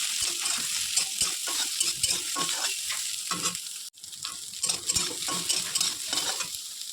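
Soaked, squeezed soya chunks fry in a pan while being stirred, steady sizzling mixed with repeated scraping strokes of a spatula, briefly interrupted by a sharp cut before the stirring resumes.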